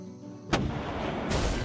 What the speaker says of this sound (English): Press space to fire the cannon, stun enemies, and avoid battles.